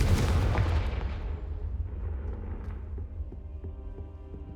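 A Confringo explosive spell in the Hogwarts Legacy video game: a loud, booming blast at the start with dense low rumble, decaying into a rolling, crackling tail over several seconds.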